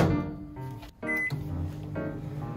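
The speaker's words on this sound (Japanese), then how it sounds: "これ500ワットまずの電子レンジなんで。" A 500-watt microwave oven heats a frozen lunch box of barley mixed rice, giving a steady close hum with a brief break partway through before the running tone resumes.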